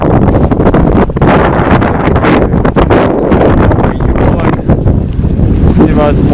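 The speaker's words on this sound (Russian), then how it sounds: "Встречный ветер." A strong headwind blows steadily over a lake, roaring into the microphone continuously and loudly for the whole stretch.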